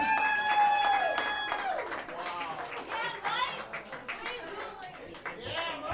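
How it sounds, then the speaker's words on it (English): Applause and clapping from a comedy club audience, dense and steady for several seconds with scattered chatter and laughter mixed in, briefly under a performer's voice near the start. "Big round of applause for poor Mike, everybody."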